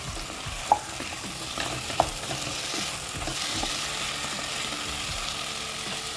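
Mutton and potatoes fry in a kadai, a continuous close sizzle broken by two sharp metallic clinks of the spoon and repeated scraping stirs throughout.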